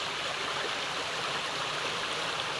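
A stream flows at a riverside, a steady close hiss of rushing water that never changes over a few seconds, with no voices.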